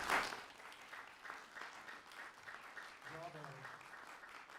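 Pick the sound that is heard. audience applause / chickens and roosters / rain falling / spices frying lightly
audience applause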